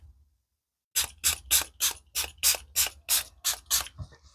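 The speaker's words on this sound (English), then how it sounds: "So I am going to spray from afar." Eleven short, evenly spaced spray bursts hiss from a distance over freshly poured resin to pop bubbles, each puff crisp and airy, with near silence before the first.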